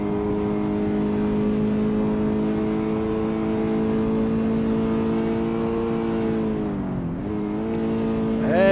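A simulated race car on the back straight at Sebring in iRacing holds a steady, high engine drone, then dips sharply as it brakes for the corner and revs back up.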